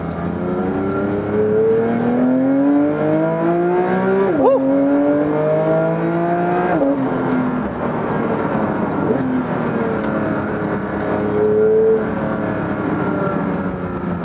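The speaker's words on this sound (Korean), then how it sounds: "스포츠 모드로 바꾸면은 벌써 조금 단단해지고 배기가 시끄러지는 게 좀 느껴지시죠?" A Porsche 911 GT3 with its naturally aspirated engine in sport mode on a public road: the exhaust note climbs through revs, drops at a gear change, then rises again, loud and close from inside the car.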